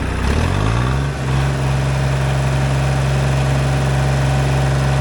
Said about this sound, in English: at full throttle, let's see what RPM it goes to